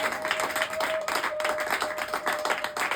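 A church congregation applauds steadily for several seconds, dense overlapping hand claps at even loudness, with a faint sustained tone running underneath.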